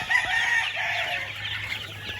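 Young gamefowl chicks, two and three months old, at a gamefowl farm, with a steady high chirping and peeping chorus from several birds close by.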